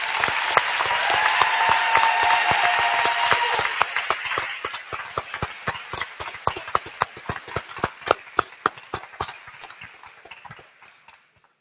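An audience at a high school graduation ceremony applauding for an honoree, a dense, loud wash of clapping that gradually thins into scattered individual claps and fades out.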